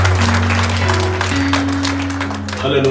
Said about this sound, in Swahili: Watia Bwana makofi mazuri.